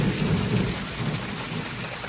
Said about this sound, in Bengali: পুরো ভর্তি, ভালোই বৃষ্টি হচ্ছে।